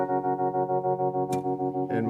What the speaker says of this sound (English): his sound basically saturated his tone with tremolo